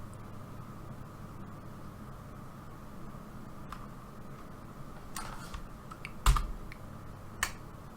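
Computer keyboard keys pressed in shortcut combinations while working in Blender, a quiet run of soft clicks with a few sharper, louder taps near the end.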